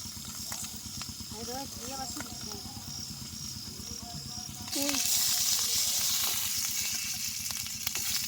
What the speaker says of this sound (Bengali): ভাজা হয়ে গেছে তাও ফুটতেইছে ওই ডিম রয়েছে